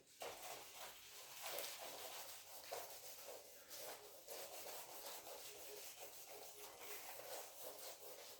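Steady, close rubbing and scraping of an eraser or cloth wiping writing off a classroom board, continuous for the whole stretch with rhythmic strokes and no talking.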